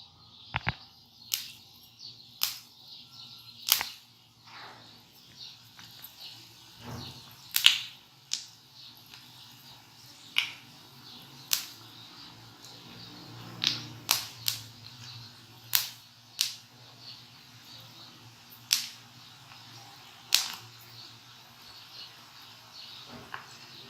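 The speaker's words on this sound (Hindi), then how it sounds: "अब हम इसको फ्राई करने के लिए डालते हैं।" Andarsa, a sweet Pakistani dough, frying in oil on low heat gives a quiet, steady sizzle broken by scattered sharp pops and crackles, with no voices.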